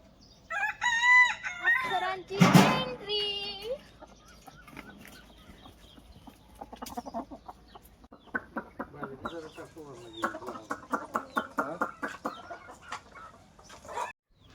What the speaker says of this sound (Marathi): आता ते कोंबड्या वगैरे सोडल्या